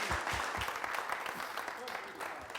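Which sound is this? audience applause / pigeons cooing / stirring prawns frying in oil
audience applause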